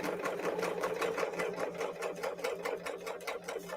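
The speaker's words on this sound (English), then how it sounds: "and I can serge right along the edge" A serger sewing machine stitches along the edge of fabric with a strand of pearls, making wired beaded ribbon. It gives a fast, even, close mechanical whirring with rapid rhythmic clicks, heard alone.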